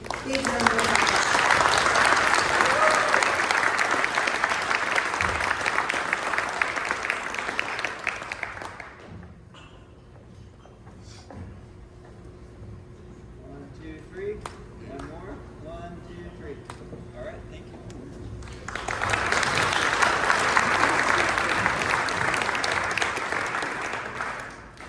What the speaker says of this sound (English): So let's give Kayla a very big round of applause.